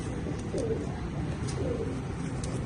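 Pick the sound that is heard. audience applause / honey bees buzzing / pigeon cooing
pigeon cooing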